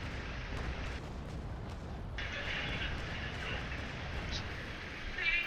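Cannon broadside fire from a ship in the naval combat game Naval Action, a dense rumbling barrage of booms that holds steady and loud across the clip, with no talk over it.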